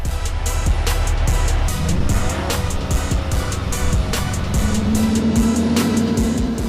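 A Chevrolet C8 mid-engine Corvette runs on a dynamometer in fifth gear, a loud, continuous engine roar with a steadily rising pitch as the revs climb throughout.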